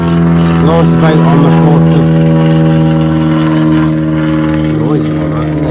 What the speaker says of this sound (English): There's an aeroplane over the top.